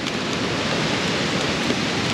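Rain pours steadily near Goyar waterfall in Karwar, a dense, even hiss of water with no pauses or voices, loud and close.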